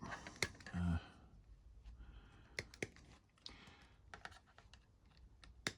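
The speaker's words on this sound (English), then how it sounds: "Just snip these out quickly." Sharp, isolated clicks as plastic model parts from a Wargames Atlantic skeleton cavalry and chariot kit are snipped off the sprue, close and scattered irregularly, with a soft voice and a brief low sound early on.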